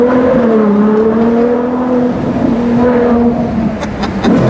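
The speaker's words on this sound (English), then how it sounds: "Let's have a listen to that V12 again." A Ferrari 812 GTS V12 engine revs loud and close, its rich, droning note rising and falling in pitch over a few seconds with no talking.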